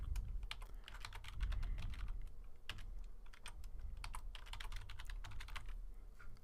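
Fingers type a new password on a computer keyboard in quick, uneven bursts of soft clicks and key taps, close but quiet, with short pauses between runs and no one speaking.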